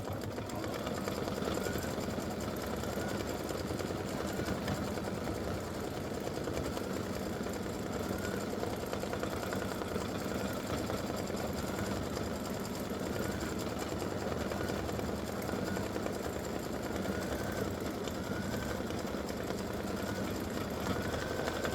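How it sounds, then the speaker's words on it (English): An embroidery machine stitches purple glasses on a Mrs. Claus design, giving a steady, continuous mechanical hum with a fast stitching rhythm and no breaks. "So her glasses are going to be stitching in purple."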